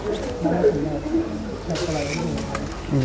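Low, soft cooing from a pigeon kept by a breeder, murmuring steadily beneath someone talking close by.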